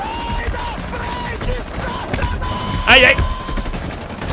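Bursts of Rainbow Six Siege gunfire rattle under excited voices, with one louder blast near the end.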